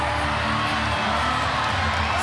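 Packed arena crowd cheering at a regional fitness competition at Kudos Bank Arena: a steady, loud wash of roaring voices and whoops filling the whole stretch.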